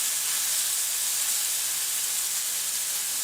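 Pork loin frying in oil in a pan gives a steady, dense sizzling hiss that holds at an even level throughout, close up and without any voices.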